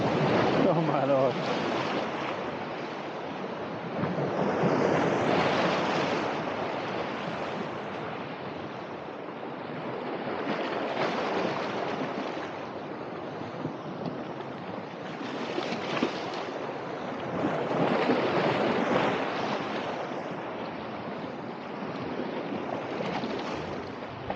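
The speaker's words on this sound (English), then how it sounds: "You can sort of hear the big waves coming behind you." Large sea waves break on the shore at Georgioupoli in swelling surges about every five seconds, mixed with wind buffeting the microphone, the roar rising and falling continuously throughout.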